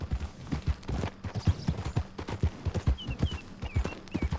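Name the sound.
horse hooves clip-clopping in video game Red Dead Redemption II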